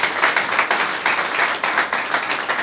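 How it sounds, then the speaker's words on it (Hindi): Loud audience applause at a federation's birthday celebration, close and dense with a pulsing rhythm of many hands clapping together, and no talk over it. "जोरदार तालियां उनके लिए भी हो जाए"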